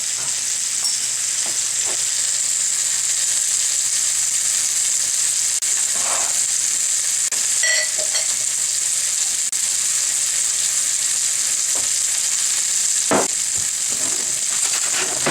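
Pork chops sear in a blackened pan with a loud, constant hiss of frying, broken now and then by faint taps and pops.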